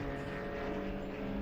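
Porsche Cup race cars battling for a class win at the Slovakia Ring, a steady distant engine drone holding a sustained tone throughout, with no talk.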